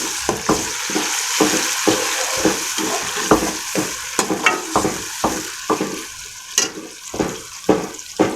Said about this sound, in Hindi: अब मैं इसमें टमाटर डालती हूँ।